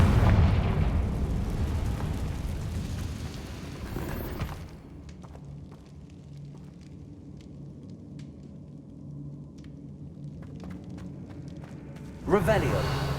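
A Confringo blasting spell in the Hogwarts Legacy video game, a heavy rumbling explosion that booms loudly for about four seconds, then drops to a low lingering rumble and faint debris, before a sharp new burst near the end.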